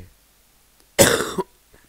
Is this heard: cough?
yes